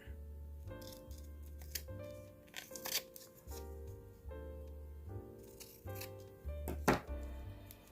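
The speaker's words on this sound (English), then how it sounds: "Cut that off like that." Scissors snip through lace and paper scraps in a series of short, crisp cuts over steady background music, with a sharper rustle near the end.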